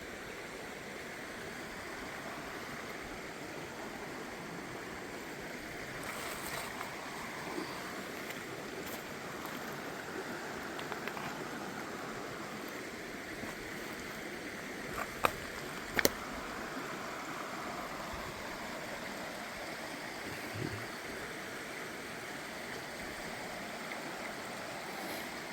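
A river flowing through flat ground in Pocahontas County, West Virginia, in February: a steady, broad wash of moving water runs throughout at moderate level, with a few brief knocks and rustles over it.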